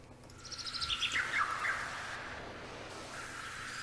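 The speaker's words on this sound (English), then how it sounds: "So what I did was I went in and selected certain bird samples" Bird song samples triggered in a Chordscape groove, with a rapid run of bright descending chirps and warbles that swell and then fade into a soft airy tail, heard alone without voices.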